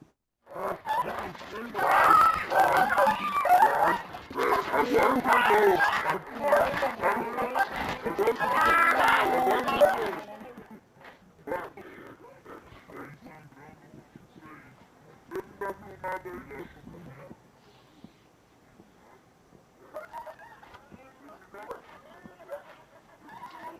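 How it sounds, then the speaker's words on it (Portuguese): A rooster clucks and squawks loudly while fighting a large dog, amid scuffling and agitated animal noise, then the commotion drops to sparse, fainter sounds. "eu vi um galo enfrentando um cachorro de bom porte"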